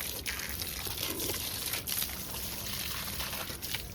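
Water pours steadily onto plants and trees in a continuous splashing stream, fairly close and unbroken, with no voices.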